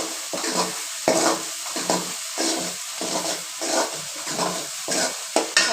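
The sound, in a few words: pirandai pickle mixture stirred and frying in pan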